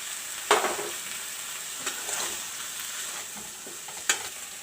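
Tomatoes sizzle and fry in a pan for a brinjal and potato curry, a faint steady hiss broken by a few sharp scraping stirs of a spoon, with no talking.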